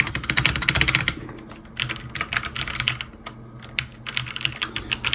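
Typing on a Magegee 60% compact backlit mechanical keyboard, a close, fast run of clicky keystrokes with brief pauses, played alone without talk.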